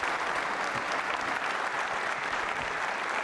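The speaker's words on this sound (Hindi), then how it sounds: "सनी जी, तालियां जोरों से बजाइए।" A studio audience at a quiz show applauds loudly and steadily, a dense, even wash of clapping throughout.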